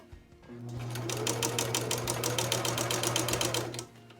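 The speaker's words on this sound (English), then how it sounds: "I'm stitching my sleeve in the armhole, and I'm starting from the underseam" A sewing machine runs steadily for about three seconds, stitching a sleeve into an armhole. Its rapid, even needle clatter sits over a low motor hum, close and alone, with brief quiet before and after.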